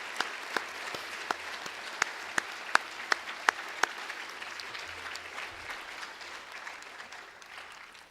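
A ceremony audience at a National Honor Society event gives a round of applause: a few sharp, separate claps build into a steady, moderately distant wash of clapping that holds for several seconds before easing off slightly.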